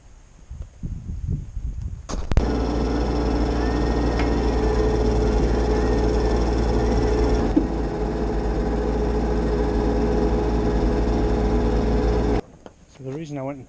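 An excavator engine runs with a steady, loud mechanical drone while augering post holes for a storage bay build. It starts abruptly after a few seconds of talk and stops near the end.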